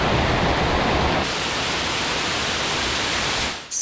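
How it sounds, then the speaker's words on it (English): Bridal Veil Falls, a waterfall about 60 feet high in Spearfish Canyon, pours down a cliff face into Spearfish Creek with a steady, loud, broadband rush that holds constant before dropping off briefly at the end. "Bridal Veil Falls rushes down the face of this high cliff into Spearfish Creek"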